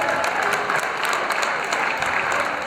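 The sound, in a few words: audience applause at a basketball game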